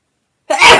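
A single sharp sneeze bursts in after a stretch of silence, loud and close, with a breathy, noisy rush at the end.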